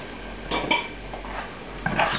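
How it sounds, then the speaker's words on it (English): A utensil scrapes the bottom of a scallop-searing pan while it is deglazed with sherry, making a few short metallic scrapes and clinks near the mic, with quiet pauses between them. "Scrape up all these bits."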